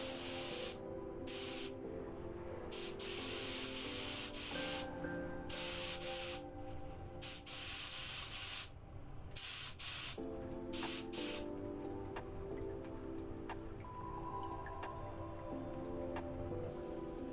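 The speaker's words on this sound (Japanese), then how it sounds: "継ぎ足し部分の木片をクリア塗装しておきます。" Aerosol clear coat hisses onto small wood pieces being added to a 1960s Teisco BS-101 bass under restoration. Close, loud bursts of spray come in a series, separated by brief pauses.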